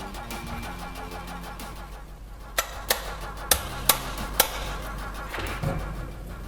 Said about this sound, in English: I'll insert one end into the hole on the wood and hammer it in.